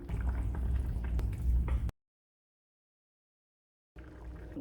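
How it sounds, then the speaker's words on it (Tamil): A pot of tamarind broth bubbling and simmering steadily up close, cut off by a gap of silence before the bubbling resumes. "கரைச்ச புளியை சேர்த்து கொதிக்க விடணும்"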